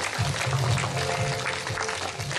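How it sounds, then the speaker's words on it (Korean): An audience at an intangible cultural heritage festival performance claps to welcome guests, a short, steady burst of applause with a low tonal hum beneath it. "큰 박수로 환영해 주시기 바랍니다"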